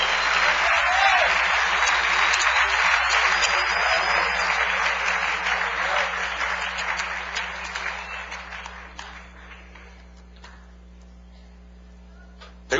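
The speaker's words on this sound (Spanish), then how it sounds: "Dale un aplauso al Rey bendito." A church congregation applauds during an apostle's sermon, a dense wash of many hands clapping that starts loud and full, then thins and fades out over about ten seconds to near quiet.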